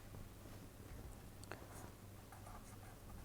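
Faint scratching and light taps of writing on a board or tablet during a chemistry lecture, soft and intermittent against a quiet hum, with no talking.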